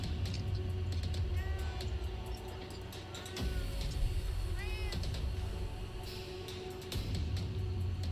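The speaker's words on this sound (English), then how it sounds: "My cat is cheering you on." A house cat meows several times, short rising mews at middling distance, over a steady low hum and faint background noise.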